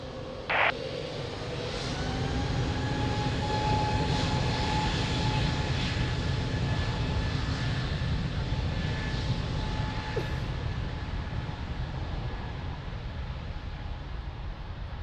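An airliner takes off from a Lisbon runway, its engine roar loud and steady throughout, with a sustained broadband rumble and high whining tones, no talk.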